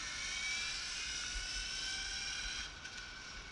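A Carson 1/5-scale Audi RS5 brushless 4x4 RC car on a track gives a high, steady electric whine that holds strong, then drops back slightly near the end.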